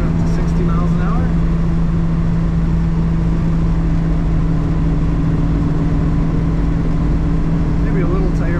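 A 1967 Mercedes-Benz 250SL Pagoda cruising at 60 mph, a steady close engine drone and road rumble filling the cabin, constant with no variation.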